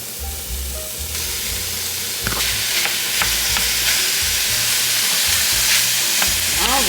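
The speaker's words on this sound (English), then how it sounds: "I'm going to now add in my ground beef" Ground beef sizzles in a pan with onions and green peppers, a steady loud frying hiss broken by scraping stirs and clinks of a utensil against the pan.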